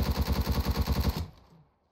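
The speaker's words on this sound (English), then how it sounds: "Oh my god, I just wallbanged someone." Rapid automatic gunfire in the video game Rainbow Six Siege, a loud, close burst of about a dozen even shots that stops and trails off into a short echoing tail.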